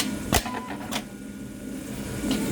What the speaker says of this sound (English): When you hit the ready button, the clamp's going to home, the machine's going to home up.